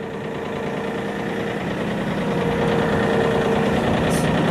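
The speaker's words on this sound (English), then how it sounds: "The tractor idles at about 900 RPMs." A tractor engine idles steadily at about 900 RPM, a close, continuous low rumble with a faint knocking pulse and no other sounds.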